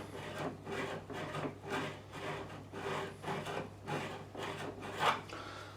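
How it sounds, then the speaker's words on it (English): A diamond-cut fret file rubbed over a guitar fret during a Les Paul-style re-fret, giving about seven rhythmic rasping strokes, close and fairly quiet, with no talking. "all I do with this is take it over the top. The fret I'm working on. It's diamond cut, this file."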